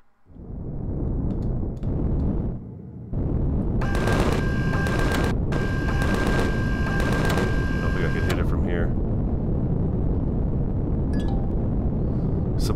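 Rapid automatic gunfire from a supply station's defensive turret in the space survival game Empyrion Galactic Survival, loud sustained bursts with a high metallic ring, preceded by rumbling game ambience.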